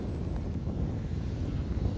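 Arrows RC Bearcat model airplane on a 4S battery flying at half throttle, a steady, fairly loud whirring drone mixed with wind rush across the microphone, no voices.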